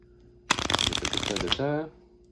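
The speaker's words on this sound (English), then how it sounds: "So that when you do the shuffle, it looks like they're all getting mixed up." A deck of playing cards being shuffled during a magic trick gives a quick burst of dense riffling flutter lasting about a second, followed by a short voiced tail.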